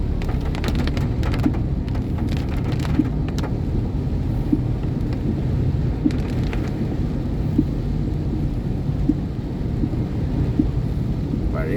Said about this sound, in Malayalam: തണ്ടർ ആൻഡ് ഷവേഴ്സ് രണ്ടും ഉണ്ടാവാറുണ്ട്.